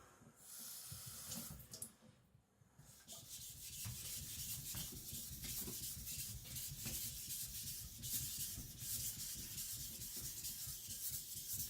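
An IKEA Chinese cleaver rasps steadily on a whetstone, a continuous gritty scraping with brief pauses early on, fairly close and alone.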